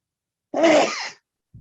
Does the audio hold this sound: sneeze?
yes